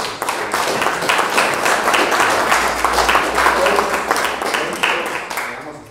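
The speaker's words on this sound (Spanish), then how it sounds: "un aplauso para la expositora" At a seminar on intercultural bilingual education, an audience applauds the presenter and her team with a loud, dense wash of clapping that holds steady before tapering near the end.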